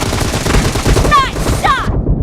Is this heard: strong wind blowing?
no